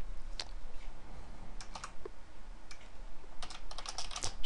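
Keys clatter on a computer keyboard as code is typed, quick irregular clicks in short bursts, close but fairly quiet.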